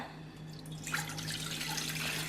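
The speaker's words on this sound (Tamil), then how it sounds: "இப்போ நான் இதுல மூணு கப் வந்து தண்ணி ஊத்துறேன்" Water pours steadily into a container as three cups are added for homemade shampoo, a close, continuous splashing trickle with no talking.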